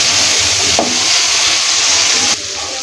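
Dried fish frying with spices in a pan, giving a steady close hiss and sizzle with faint clatter and no voices.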